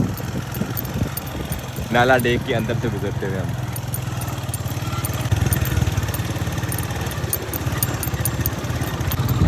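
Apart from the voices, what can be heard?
motorcycles and vehicles passing through a dry stream bed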